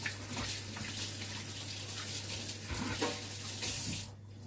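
Tap water runs into a sink while hands are washed beneath it, a soft continuous splashing with brief surges and rubbing, fairly quiet, under a low electrical hum, stopping near the end.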